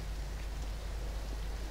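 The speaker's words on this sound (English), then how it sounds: "I hear rain" Steady rain falling in a Gmod horror game set around an apartment, a constant even hiss with a low rumble underneath, heard alone.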